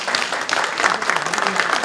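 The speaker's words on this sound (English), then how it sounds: "큰 박수를 한번 더 주세요." An audience at an anniversary ceremony claps in sustained, close applause, a dense patter of many hands lasting about two seconds without pause.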